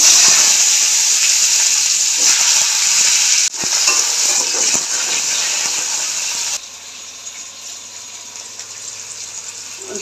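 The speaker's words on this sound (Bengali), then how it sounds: "এবার আলুগুলো ছেড়ে দেবো" Potato pieces fry in hot oil during a vegetarian banana-flower curry, giving a loud, steady sizzle and hiss that drops abruptly to a quieter sizzle near the end.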